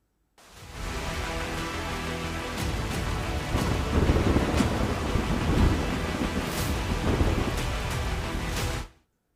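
Heavy torrential monsoon rain pours down in Gujarat with rolling thunder, a loud, dense, unbroken roar of downpour and rumbling that fades in and swells for several seconds before cutting out.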